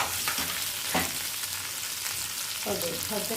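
Asafoetida tempering sizzles steadily in hot oil for a chutney, with a dense continuous crackle and a few brief stirring bursts, close and fairly loud, no talking.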